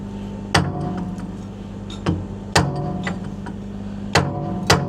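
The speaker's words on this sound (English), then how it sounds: "Bella, my daughter, 11 years old, could hit that hammer harder than you, Frank." A hammer strikes a worn Volvo LH150 loader bucket while a new arrowhead cutting edge is fitted, giving about six sharp metallic knocks at irregular intervals over a steady engine or machinery drone.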